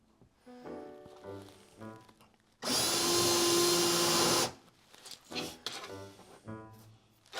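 A power drill fitted with a 1/4 inch bit bores a hole in a toy Proton Pack on a workbench, a loud, steady whine lasting about two seconds between quieter handling clatter and light talk.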